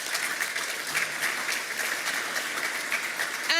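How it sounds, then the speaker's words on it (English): Conference audience giving a round of applause, even, moderately distant clapping sustained throughout and ending in a short rising tone. "Another round of applause."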